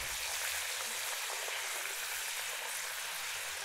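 Chicken deep-frying in hot oil for Chennai chukka chicken, a steady close, dense sizzle and crackle that continues evenly with no voices.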